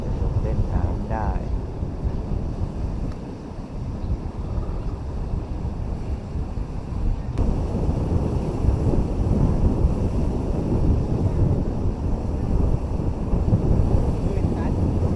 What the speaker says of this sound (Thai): วันนี้รู้สึก คลื่นแรงเหลือเกิน